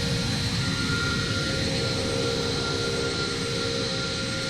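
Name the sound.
airplane taking off in Roblox Flightline3D video game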